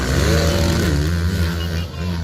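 A big racing motorcycle engine roars at high revs during a final heat of a motorcycle race, loud and steady throughout with a slight dip near the end, with faint crowd voices beneath.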